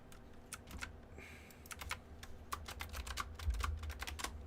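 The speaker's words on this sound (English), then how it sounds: "I have a clickety clickety keyboard." Steady clicky typing on a mechanical computer keyboard, a fast run of sharp, close keystrokes with a faint low hum underneath and no voices.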